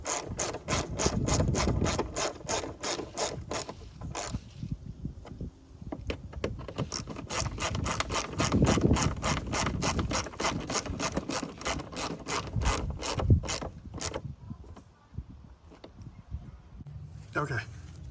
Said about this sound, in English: Now we need to tighten these bolts and then add more coolant.